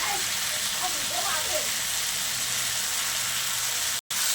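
Boiled spinach and crushed green chili frying in a pan, a continuous close, bright sizzle under a voice speaking, with a brief cutout near the end.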